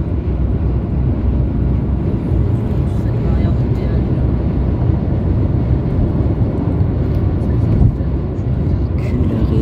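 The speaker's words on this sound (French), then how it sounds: "il y a un train qui passe juste. Ouais, c'est le TGV ça." A TGV Inouï high-speed train rushes past nearby as a loud, sustained low roar with wind buffeting, heard from inside a vehicle while people talk over it.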